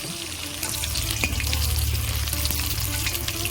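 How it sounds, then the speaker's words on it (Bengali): Amudi fish pakoras with onion and chili fry in hot oil, giving a continuous close bubbling sizzle with small crackles over a low background hum. "আমুদি মাছের পকোড়াগুলো কত সুন্দর ভাজা হচ্ছে দেখুন"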